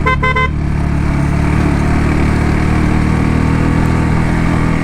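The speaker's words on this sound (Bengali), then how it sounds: "ওদের বাইকের ইঞ্জিনের সাউন্ড শুনলে হয়তো বুঝতে পারবেন আমরা কতটা উপর উঠতেছি" A motorcycle engine drones loud and close, climbing a steep hill road to Sajek, running steadily under load, with a short honk at the start.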